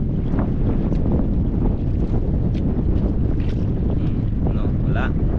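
Strong wind buffets a small boat at sea, a continuous loud rush of blowing air and water noise with faint, indistinct voices in the background.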